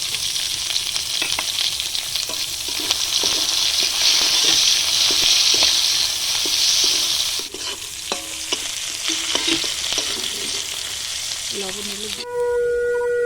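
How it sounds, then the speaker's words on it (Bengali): Chopped onion frying in hot oil with dried red chilli, bay leaf and whole cumin, a loud steady sizzle with the scrape of stirring, which drops briefly before a few clinks near the end. "কেটে রাখা পেঁয়াজটা আমি দিয়ে দিচ্ছি।"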